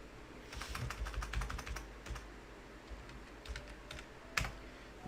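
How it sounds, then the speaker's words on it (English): Quick bursts of typing on a computer keyboard, clustered clicky keystrokes close by with short pauses between runs and a sharper final keypress, with no speech. "I typed in McDonald's in Singapore."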